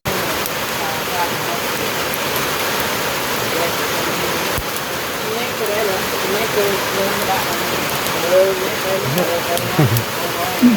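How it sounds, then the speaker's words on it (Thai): Rain falling steadily at a rural house, a continuous broadband hiss throughout with people talking over it. "โอ้ฝนตกเลยทุกคนมาฮอดเฮือนก็ฝนตก"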